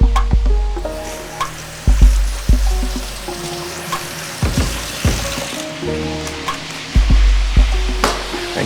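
Water runs over a head of cabbage in a sink, a continuous splashing stream broken by thumps and knocks as the cabbage is turned and handled. No voices are heard.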